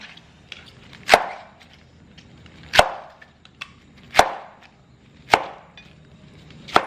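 Knife chopping vegetables into inch-sized pieces on a cutting board, five crisp, sharp chops spaced roughly a second and a half apart, close and clear with faint handling noise between them.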